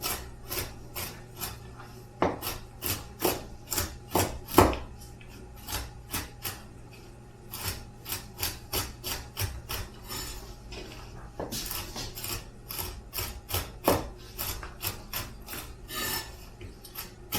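A knife chops pecans on a board for pecan bars in quick, irregular bursts of sharp taps, close and fairly quiet, with brief pauses between runs.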